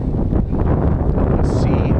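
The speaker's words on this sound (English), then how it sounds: "the wind's in my face" Steady wind buffeting a microphone on a small boat in a bay while bass fishing, a dense low rumble that runs through the whole stretch, with faint talk underneath.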